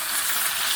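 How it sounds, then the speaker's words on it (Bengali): Hilsa fish fries in a hot pan, a steady, bright crackling sizzle heard close and alone for under a second. "মাছটা ভাজা হয়ে আসছে, আর একটু হবে।"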